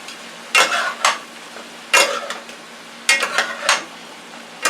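Sautéed vegetables with finely cut pepper stirred in a pan, heard as three bursts of close scraping and sizzling stirs separated by short quiet gaps, with no talk.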